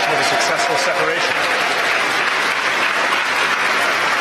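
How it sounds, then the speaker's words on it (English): A crowd gathered downstairs at a rocket launch webcast cheers and applauds continuously as the first stage separates, a dense, steady roar of clapping and shouting with no pauses. "As you can hear from the crowd cheering downstairs, it sounds like we've had a successful separation"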